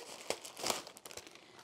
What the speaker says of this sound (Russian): Вот такая погремушка это хрустит, пищит, хрустящая пищалка.